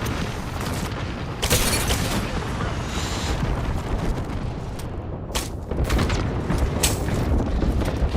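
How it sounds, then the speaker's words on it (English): Combat in a shooter video game, with dense, steady gunfire and booming impacts throughout, plus sharper loud bursts standing out near the start and again later. "They're shooting at me"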